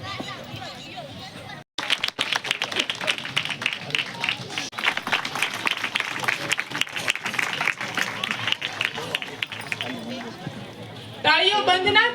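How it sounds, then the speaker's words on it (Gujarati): A large audience at an award ceremony gives sustained applause as a guest takes the stage, dense clapping and crowd murmur building after a brief pause, with voices speaking over it. "તાળીઓ બંધ ના થવી જોઈએ."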